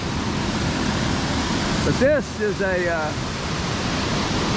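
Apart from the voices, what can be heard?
waterfall on Steels Creek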